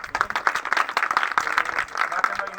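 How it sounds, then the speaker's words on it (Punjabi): A crowd claps steadily and loudly at an Independence Day flag hoisting held by labourers in Mudki, Ferozepur, Punjab, with dense overlapping hand claps throughout and voices mixed in. "ਤਾੜੀਆਂ ਤਾੜੀਆਂ ਮਾਰ"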